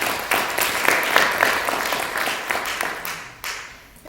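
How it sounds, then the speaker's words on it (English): A workshop audience applauds, a dense patter of clapping that rises quickly and holds steady for several seconds before thinning out, heard from within the room. "round of applause for yourself."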